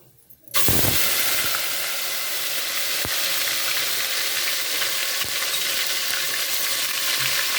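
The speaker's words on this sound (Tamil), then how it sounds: "இப்போ எண்ணெயிலே வந்து இஞ்சி பூண்டு பேஸ்ட்டை போட்டுருவோம்." Ginger garlic paste hits hot oil already holding cinnamon, cloves and whole spice flowers, setting off a sudden loud sizzle that keeps frying steadily and evenly throughout, with no talk.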